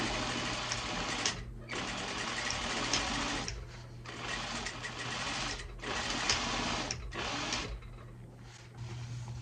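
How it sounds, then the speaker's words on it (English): A sewing machine stitches elastic closed on a large satin hair bonnet, a steady close mechanical whir running in long stretches with a few brief stops between passes. "So I'm just sealing the elastic now."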